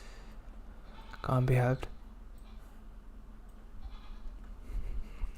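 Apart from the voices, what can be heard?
goat bleating in the background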